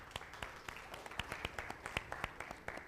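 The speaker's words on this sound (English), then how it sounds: "A round of applause for Pasha." A small conference audience at a fintech summit claps for a presenter, a sparse, fairly quiet patter of distinct hand claps at a loose, steady pace.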